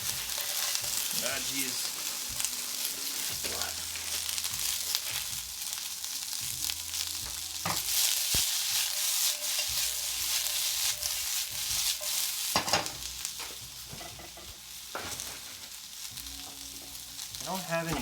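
Peas fry in oil alongside fried rice in a pan, a steady loud sizzle with frequent scraping and clacking from a spatula stirring, and a brief muttered remark from a person.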